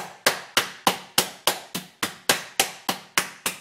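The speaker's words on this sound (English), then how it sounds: "I'm just finishing up the hammering piece" Regular, forceful pounding strikes on tenderloin meat, about three per second, each a sharp thud with a short decay, close by and alone.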